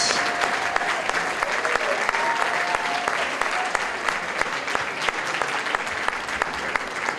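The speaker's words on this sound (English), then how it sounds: "How about a huge round of applause" Steady applause from a crowd at a live show, lasting throughout at an even level with sharp individual claps standing out near the front.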